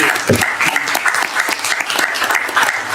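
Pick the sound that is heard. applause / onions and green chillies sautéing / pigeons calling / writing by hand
applause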